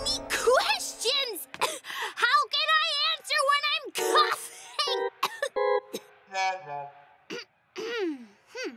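A cartoon character in a Peanuts animation coughs in short fits, mixed in with excited, emotional voices.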